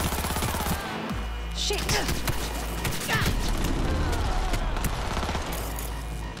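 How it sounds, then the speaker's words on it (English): Gunfire crackles in the video game Cyberpunk 2077 as bursts of rapid shots and scattered single cracks, loud and close over a low rumbling background, with a short spoken exclamation in between. "Heard shots."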